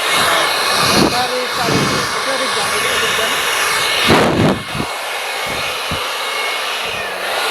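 A cordless battery-powered power tool, such as a drill or angle grinder, is tested in a shop, whirring loudly in several short bursts that rise and cut off, with someone talking between runs.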